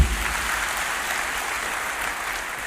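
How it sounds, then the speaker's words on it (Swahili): A church congregation claps for Jesus during a sermon, sustained dense applause from many hands that stays fairly even throughout, with no voices standing out. "Si ni vizuri upigie Yesu makofi mengine mazuri?"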